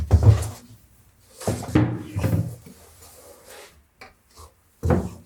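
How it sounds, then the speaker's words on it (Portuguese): A wooden furniture drawer is pulled out and set down in a room, giving a few separate scraping and knocking bursts with quiet gaps between them, close and fairly loud. "eu vou tirar aqui essa gaveta"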